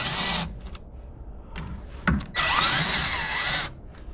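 A power drill driving fasteners while a truck bed rack is mounted on a Ram pickup, short bursts of whirring with brief pauses, a sharp knock, then a longer run, close and loud.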